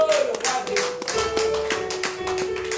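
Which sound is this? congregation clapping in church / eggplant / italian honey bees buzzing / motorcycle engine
congregation clapping in church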